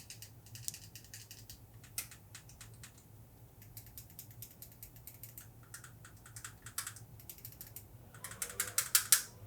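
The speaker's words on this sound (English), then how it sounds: "I'm gonna be quiet and start pressing buttons so you can hear it" Buttons on a Retroid Pocket 4 Pro handheld are pressed in quick succession, giving crisp, close plastic clicks in irregular runs against a quiet background, with a denser flurry of sharper clicks at the end.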